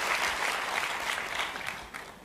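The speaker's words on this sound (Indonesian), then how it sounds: "Boleh tepuk tangannya di extend buat tim praise and worship kita." A church congregation claps steadily for the praise and worship team, with dense, sustained applause from a crowd filling the room, fairly soft and continuing for a couple of seconds.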